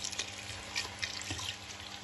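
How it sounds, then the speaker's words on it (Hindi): Water poured into a pot of mixed vegetable curry with carrots and potatoes, a soft, faint liquid trickle and splash running steadily with a few small bursts, no voices. "लेकिन इसमें हम थोड़ा सा पानी ऐड कर लेंगे"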